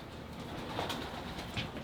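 A large, light Belgian racing pigeon cooing softly while held in the hands at a loft, low muffled coos under steady background noise.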